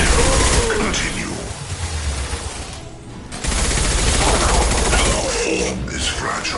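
Video game gunfire in Mass Effect 2: dense bursts of automatic weapon fire and rapid shots crackle loudly, briefly dropping away near the middle before resuming at full intensity.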